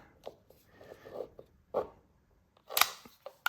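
A 200-year-old blade making a small incision while fitting an electrical outlet, with a few short, dry scraping cuts and a sharper slicing rasp near the end, close and alone.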